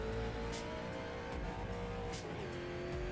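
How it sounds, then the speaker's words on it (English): A race car at Five Flags Speedway revs up through the gears on track, a loud sustained engine drone with a pitch drop at a shift, heard from on board without talk. "Up through the gears into fourth."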